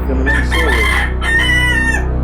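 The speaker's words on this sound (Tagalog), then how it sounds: "Mga manok sa loob ng pagawaan, nagtitilaukan dahil hindi alam kung umaga na o gabi." Roosters inside a taho factory crow loudly and close, two rising-and-falling calls overlapping one after another over a steady low hum.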